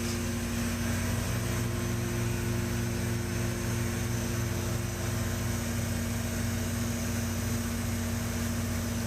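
A pipe liner-making machine runs with a vacuum hose sucking out air, giving a steady, loud mechanical hum and hiss that stays unchanged throughout, with no talking.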